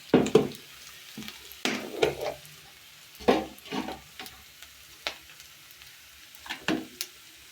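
Baim fish frying with ginger and garlic paste in a pan: a quiet sizzle punctuated by sharp spatula scrapes and stirs, roughly one per second, close and alone.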